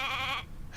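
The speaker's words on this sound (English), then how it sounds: "Hey, a sheep!" A sheep bleats once in Divinity: Original Sin II, a short, close wavering bleat that breaks off, with another starting at the very end.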